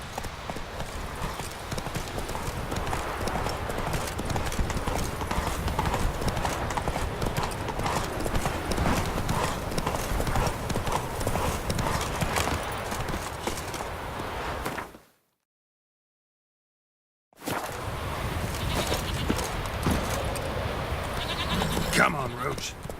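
Geralt's horse Roach galloping in The Witcher 3, a fast, steady clip-clop of hooves that runs on continuously, broken by a brief silent gap, with a voice talking over it.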